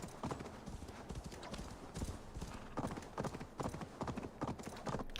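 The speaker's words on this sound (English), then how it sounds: "I'm gonna do the worst thing you could possibly do while drunk and ride a horse" Horse hooves clip-clop in a steady, busy rhythm while riding in the Assassin's Creed Valhalla video game, with an occasional faint whinny mixed into the game audio.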